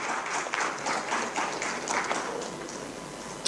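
Audience applause for a panel speaker at a breakout session on social protection, a crowd of individually audible hand claps in a lively irregular rhythm, fairly close, tapering slightly toward the end, with no voices.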